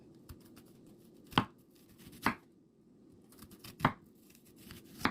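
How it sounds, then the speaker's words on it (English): A knife slicing purple onion thin on a cutting board for a Greek pasta salad, four distinct sharp chops spaced irregularly over a low background hum, close and clear, with no voices. "what I like to do with this is slice it thin"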